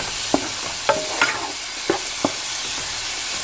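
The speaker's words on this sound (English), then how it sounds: "saute that on the stove for a little bit" Onion powder, garlic powder, salt and pepper frying in a pan on a stovetop, a steady low sizzle broken by a few sharp utensil taps and scrapes, with a voice speaking briefly over it.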